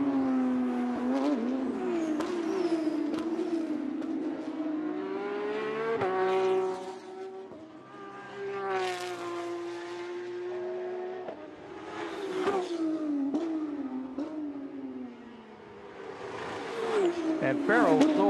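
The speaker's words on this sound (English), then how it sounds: "the gold class leader just comes by us now, car number 25" Porsche GT3 Cup race cars at Sonoma roar past, engines rising and falling in pitch as they accelerate by, heard under continuous race commentary.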